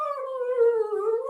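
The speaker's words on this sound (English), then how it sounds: "If you are hearing some noises, my dog is trying to get out" A pet dog named Chispita lets out a single drawn-out, high whine lasting just over a second, clear and close, as she tries to get out.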